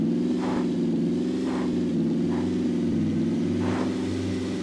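A steady engine drone of a vehicle driving in the video game PUBG, with a constant low rumble and faint rises in revving, no speech.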